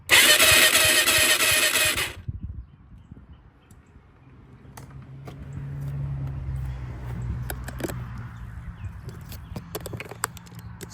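A Yamaha YFZ450 ATV engine cranks over with its spark plug removed, a loud, even, rapid starter churn for about two seconds that stops abruptly, followed by quiet handling noises and a low rumble.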